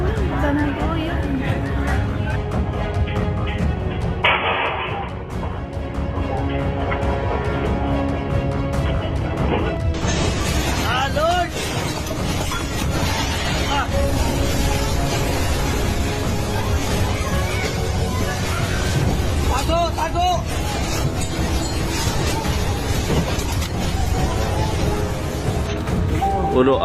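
Ground shaking in an earthquake of magnitude 8.2 and 7.7, with a continuous loud rumbling roar and repeated crashing and smashing of objects, under frantic voices and crowd babble throughout.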